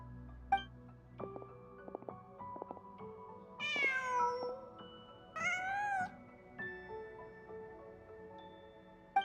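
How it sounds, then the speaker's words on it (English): A cat meows twice in the game Genshin Impact, two rising-falling cries at middle distance set over soft game music and ambient tones. "Just a cat."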